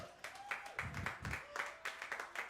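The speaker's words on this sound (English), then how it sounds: "That was my husband clapping about extra money." A man claps several times at a small pitch-night event for local entrepreneurs, quick bursts of applause-like hand claps, fairly quiet and slightly distant, with faint voices nearby.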